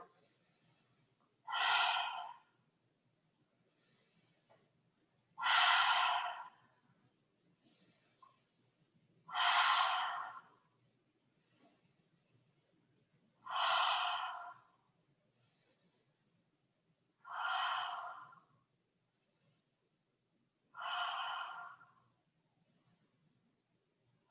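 Lion's breath exhales in a yoga session, with the tongue out and air pushed forcefully through the mouth: six breathy, rasping exhales of about a second each, spaced about four seconds apart, close and fairly quiet, with silence between.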